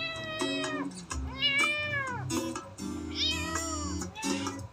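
A young female kitten, around a month old, meows repeatedly in a series of high, clear, rising and falling calls, close to the listener, with no talking.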